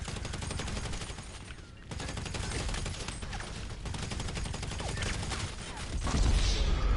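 Rapid, dense gunfire and explosive weapon bursts from a video game, likely including a rocket launcher, fill the clip loudly and continuously, with a brief dip near the two-second mark and a heavier low boom toward the end.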